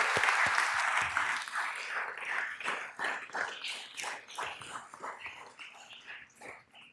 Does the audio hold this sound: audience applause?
yes